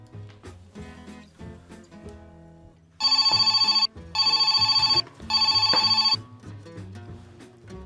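A telephone rings three times in a steady pattern of loud, bright electronic bursts with short gaps between them, layered over soft background music that continues throughout.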